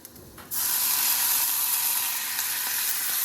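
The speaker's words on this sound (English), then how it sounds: "I'm going to use this bowl to grab some water, and you'll hear it sizzle just a little bit" Water splashed into a hot pan of meatloaf with onions bursts into a loud, steady hiss that holds at full strength to the end.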